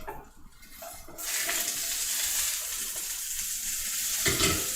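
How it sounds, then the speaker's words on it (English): Chicken burgers sizzling and crackling in a hot pan, a steady frying hiss that swells after a brief quieter start, close by. "I can hear them sizzling away."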